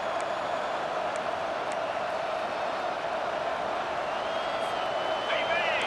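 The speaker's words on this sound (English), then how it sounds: "this big crowd doing everything possible to inspire this defense down here near the goal line" A big stadium crowd roars in the EA Sports College Football 25 video game as the defense sets up near the goal line, a steady, dense wall of cheering under a commentator's talk.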